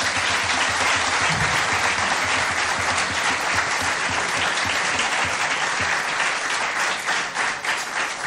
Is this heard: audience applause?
yes